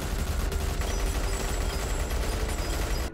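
Dense, sustained barrage of gunfire in a film battle scene as soldiers pin down survivors, continuous and loud throughout with rapid overlapping shots and no pauses.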